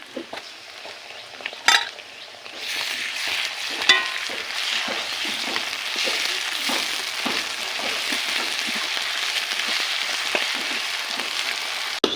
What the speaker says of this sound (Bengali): সকল মশলা ভাজা হয়ে গিয়েছে